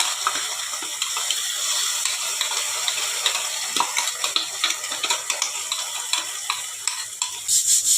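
Garlic and ginger paste fries in a pan with a steady hiss, broken by repeated scraping clicks of a spoon stirring it, close and fairly loud with no talk.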